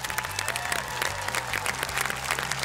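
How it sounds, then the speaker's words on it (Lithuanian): Audience applause and cheering at the final of a televised singing contest, a dense steady clapping crowd sustained throughout with music beneath it and no talk. "Ponios ir ponai, aplodismentai jiems didžiausi"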